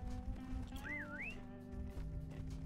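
A short, clear rising-and-falling whistle sounds once in a video game, standing out briefly over a low, steady background hum.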